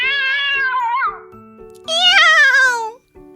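A cat meows twice, loud and close, each cry long and wavering with a rising then falling pitch, separated by a short pause.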